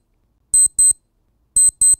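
A timer alarm from the TMR package in the Emacs text editor sounds as two pairs of bright electronic chimes, each pair made of two quick double tones separated by about a second, clear and alone against silence.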